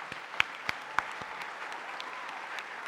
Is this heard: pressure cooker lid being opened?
no